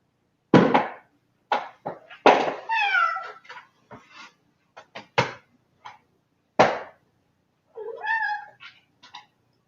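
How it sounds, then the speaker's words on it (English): A domestic cat meows loudly and close up in a quiet room, a series of about ten separate calls, some short and sharp and others drawn out and wavering, with pauses between them. "My other cat, my more obnoxious cat."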